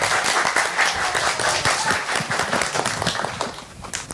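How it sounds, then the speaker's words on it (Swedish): An audience claps in a quick, lively burst of individual hand claps, close and fairly loud, running steadily for a few seconds without talk over it. "En till applåd."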